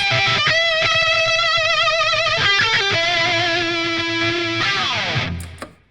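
Singing distorted electric guitar lead through a Helix amp modeler playing fast melodic lines with vibrato and bends, loud and sustained, ending in a slide down.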